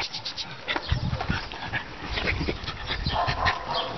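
A dog whimpers and whines close by in short, repeated high cries, with some panting between them and no clear talk.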